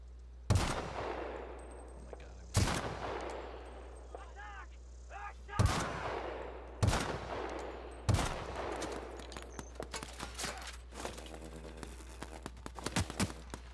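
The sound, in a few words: gunfire from a close range gun in a video game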